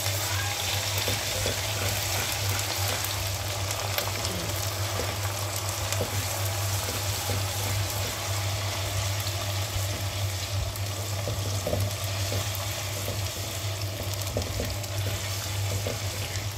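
Onions frying with garlic and ginger paste for dhaba-style mash ki daal give off a steady, even sizzling hiss that runs without pause at a constant level, with no talking.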